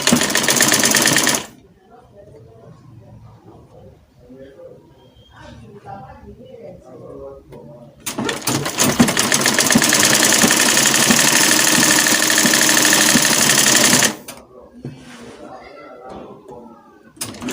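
Sewing machine stitching a seam on a Caribbean dress with balloon sleeves, running loud and steady in two long bursts with a quiet pause between them, and softer mechanical handling in the gaps.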